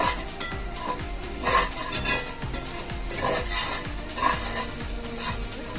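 Shrimp heads sizzling in oil and salt in a frying pan, stirred with a utensil that scrapes and taps the pan in a regular rhythm over a continuous close sizzle, with no talking.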